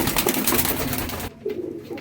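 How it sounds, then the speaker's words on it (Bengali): A pair of Naphta and Giribaz pigeons coo softly nearby, a low murmuring coo running under light background noise, briefly dipping quieter before resuming. "নাফতা পায়রার সাথে গিরিবাজের জোড়া"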